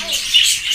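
Pet cockatiels, lovebirds and finches chirp in a busy, continuous high twittering, several small birds calling at once close by, with no talk.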